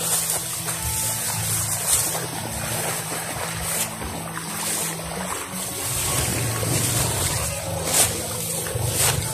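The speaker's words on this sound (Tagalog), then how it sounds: "narinig akong motor" A motor engine hums low and steady in the distance, its drone partly masked by wind and outdoor noise with occasional brief gusts.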